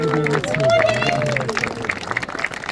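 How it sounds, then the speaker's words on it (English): Outdoor audience at a bird of prey demonstration on Grouse Mountain claps after a presenter talks, scattered applause and crowd chatter rising under speech, then thinning into uneven claps. "let's give Danny a big round of applause as I welcome her back"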